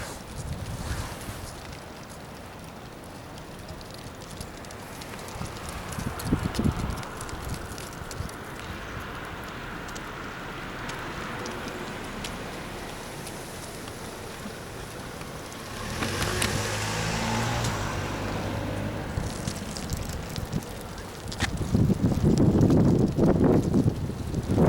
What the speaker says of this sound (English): You can hear the wind in the trees.